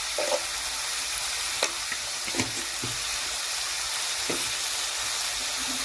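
Potatoes frying in a pan with turmeric and salt: a constant, bright sizzle broken by several sharp clicks of stirring utensils, close and loud, with no talking.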